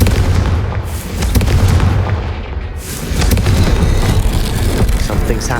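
Confringo blasting spells burst in Hogwarts Legacy, a loud, dense run of booming explosions and crackling impacts rolling on continuously with no pause, heavy low rumble under sharp pops.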